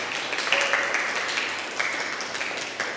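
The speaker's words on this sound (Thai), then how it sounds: "ขอเสียงปรบมือหน่อยค่ะ" Applause from a small studio audience at a Thai TV show, a light patter of hand clapping that stays steady and moderately loud, with faint background voices and a higher tone briefly riding over it.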